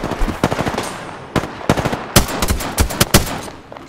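Rapid bursts of video-game gunfire in Apex Legends, loud and close, with irregular clusters of sharp shots separated by brief pauses.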